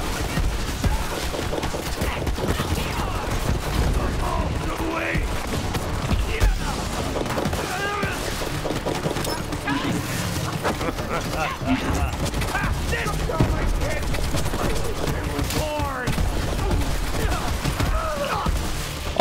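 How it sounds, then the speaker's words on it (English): Shotgun fire in the Borderlands 3 video game, heavy blasts repeating through a dense, loud mix of game effects and music, with players talking over the action. "The shotgun's pretty badass."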